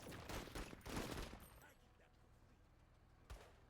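Gunfire from a squad in a bug-fighting video game: dense bursts of rapid shots in the first second and a half, fading to a quieter rumble, then one sharp shot near the end, with someone talking over it.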